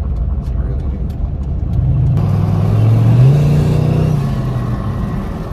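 A boosted Chevrolet Tahoe engine hums and builds as the SUV drives and accelerates, with a steady low drone that swells in pitch and loudness midway, then settles into road noise.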